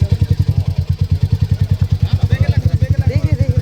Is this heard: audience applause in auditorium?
no